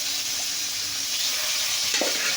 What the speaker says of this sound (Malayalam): അപ്പോൾ ചിക്കനൊക്കെ പൊരിക്കാനിടണം.